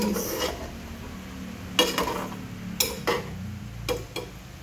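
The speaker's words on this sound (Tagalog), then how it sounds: "Haluin natin para mabaliktad ang mundo." A spoon scrapes and knocks against a pot while stirring a tomato dish, a few distinct clanks spaced about a second apart over a low steady background.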